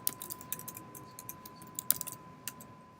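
Rapid, light keystrokes typing a file-removal command on a computer keyboard in Kali Linux, an irregular run of crisp close clicks over a faint steady hum, with no talking.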